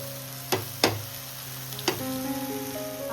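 An uttapam fries in oil on a pan, giving a steady close sizzle broken by a few sharp clicks and taps of utensils, with no talking.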